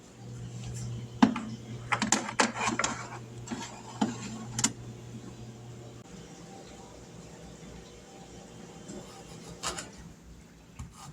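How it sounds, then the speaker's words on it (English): Dehydrating trays of sliced ginger loaded into an air fryer, a few light plastic and metal clicks and rattles in the first half, then quieter handling with a low hum fading out. "We have our first tray ready, and we can get it loaded right into the air fryer"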